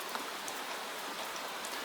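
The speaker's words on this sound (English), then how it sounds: "The rain covers everything softly." Gentle rain falls steadily on an old town at night, a soft continuous patter on roofs and stones, even and close throughout with no voices.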